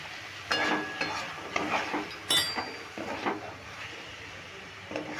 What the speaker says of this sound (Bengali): আমি একটা পাত্রে নামিয়ে নিচ্ছি।